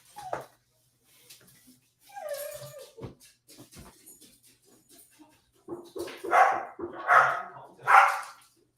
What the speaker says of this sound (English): I just got attacked by a mean old dog over there.